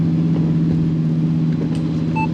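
An Audi R8 V10 Performance Spyder being driven with the roof closed and a window open, its V10 engine producing a steady, loud drone with a strong low hum and no distinct revving.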